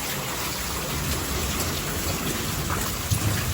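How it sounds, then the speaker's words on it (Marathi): Steady, dense rain roars continuously throughout, a heavy broadband wash with a low rumble underneath and a brief thump near the end. "पाऊस मोठाला चालू आहे बाहेर."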